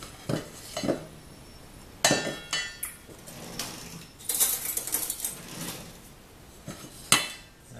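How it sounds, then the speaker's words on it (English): A big whisk is worked quickly through an egg yolk mixture, giving quiet, irregular metallic clinks and taps against the bowl in short bursts, with no talking. "take a big whisk and just sort of quickly whisk that in just until it disappears"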